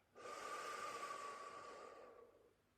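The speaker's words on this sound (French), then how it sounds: "inspirez profondément par le nez pour vous dynamiser. Et soufflez fortement par la bouche" A single forceful breath during a relaxation exercise, a deep nasal inhale followed by a strong exhale through the mouth, close and airy, lasting about two seconds and heard alone.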